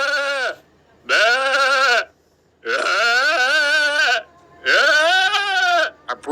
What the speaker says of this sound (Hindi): अरे बेटा ये खास पहाड़ी बकरा है